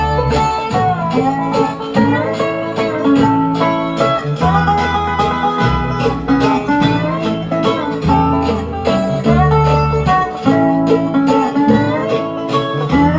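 A lively bluegrass band plays steadily, with quick fiddle-like melodic runs over rhythmic strumming and bass, continuous and fairly loud throughout.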